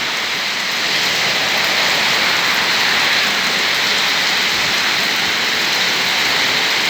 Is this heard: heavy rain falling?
yes